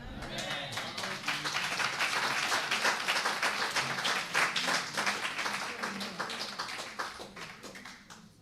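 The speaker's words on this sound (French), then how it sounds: "Les applaudissements, c'était pour Dieu." Audience applause at a church gathering: dense, steady clapping fills the whole stretch, fairly near and full, with no talk over it, fading slightly toward the end.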